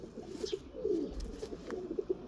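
A pigeon coos softly nearby a few times in a short run of low, rolling calls, with faint background noise between them.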